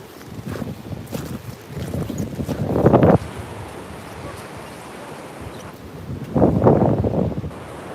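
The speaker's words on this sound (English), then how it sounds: "Still got windy and nasty weather, stormy weather." Stormy wind sweeps across the beach at Walcott in north Norfolk, rising in two loud roaring gusts over a softer steady background rush.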